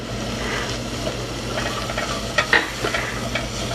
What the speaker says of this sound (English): Now's a good time for me to put in my flour.